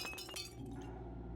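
Glass shattering in the Deus Ex video game, inside a cathedral level in Paris: a sharp crash followed by tinkling shards that fade out quickly, heard alone.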